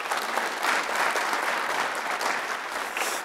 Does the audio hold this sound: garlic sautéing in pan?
no